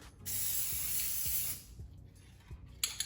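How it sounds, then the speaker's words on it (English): A spray can hisses in one long steady burst onto printed labels to waterproof them, then stops, followed by faint clicks and a short second spray at the end. "I'm probably gonna spray it one more time."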